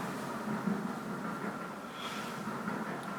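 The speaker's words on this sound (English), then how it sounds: "Train." A metro train runs past close by, a steady broadband rumble and rail hiss that holds at a constant level across the clip, with a slight swell near the middle and no voices.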